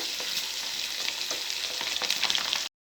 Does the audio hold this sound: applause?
no